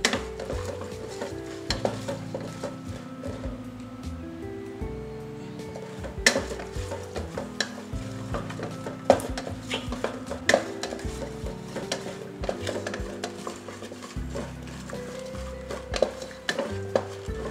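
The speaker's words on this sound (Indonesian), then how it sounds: "bila minyak dah panas kita masukkan udang" Fresh shrimp fry in hot oil for Thai tom yam noodle soup, a soft continuous sizzle under frequent metal clinks and scrapes as a utensil stirs and taps the pot throughout.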